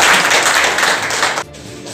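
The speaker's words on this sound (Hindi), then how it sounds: "आप एक जोरदार ताली बजा लेंगे।" A group at an inclusive training session for teachers of children with disabilities claps loudly together, a dense burst of applause close by that stops abruptly near the end.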